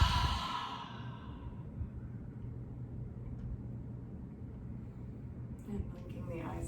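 A slow, deep exhale during a guided yoga breathing exercise, a long soft breathy rush that fades gradually into quiet room tone.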